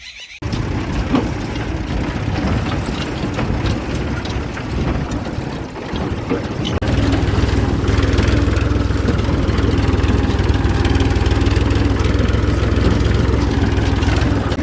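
A farm tractor engine running steadily outdoors in a village, a continuous loud drone that grows heavier and lower partway through, with no talk.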